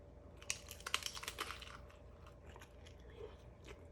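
Crisp crunching bites into a crunchy taco served in a cup, a cluster of sharp cracks followed by softer chewing that fades, close and fairly quiet.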